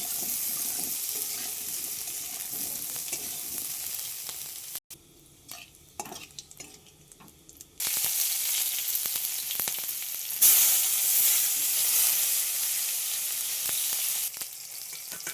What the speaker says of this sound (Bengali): হলুদ লবণ দিয়ে এই যে দেখো কষাচ্ছি।